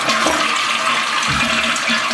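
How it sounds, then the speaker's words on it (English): A toilet flushes with a steady, close rush of water that stays loud and continuous throughout. "I'll show you that as the toilet flushes"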